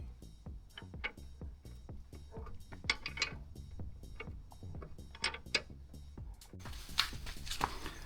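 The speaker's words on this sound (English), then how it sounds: "done that nut up as far as I can go, and nice and snug" A nut being tightened on the spindle during coil spring installation on a Holden HQ-WB one-tonner, giving repeated metallic ratcheting clicks and clunks in an irregular rhythm, close up, with a brighter scraping burst at the end.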